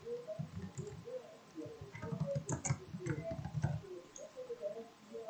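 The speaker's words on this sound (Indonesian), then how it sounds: "Kita ketik nama" Light clicks of typing on a computer keyboard come in a cluster in the middle, faint and close, over a soft murmuring background.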